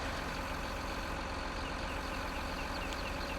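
A tractor engine idles in Farming Simulator 19 during a logging job, a steady, dense, unbroken drone with rough low rumble and no pauses.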